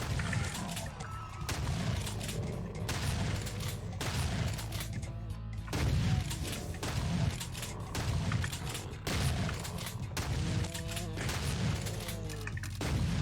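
Chaingunner enemies in the game Doom firing bursts of rapid gunfire, mixed with mechanical game sounds and explosive booms, repeating throughout at moderate loudness.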